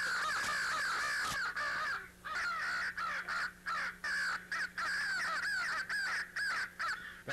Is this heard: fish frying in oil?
no